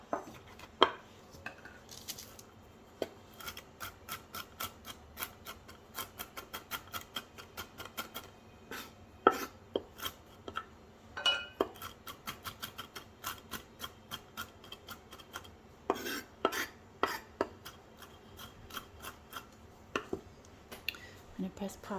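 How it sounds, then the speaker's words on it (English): Walnuts being chopped with a knife on a board at home for a walnut cake, a steady run of quiet, sharp knocks and taps at uneven intervals, close by and soft overall. "I'm going to keep chopping away."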